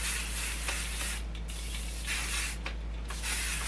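Hairspray hisses from an aerosol can onto styled hair in short close bursts, with brief pauses between sprays under a steady background hum.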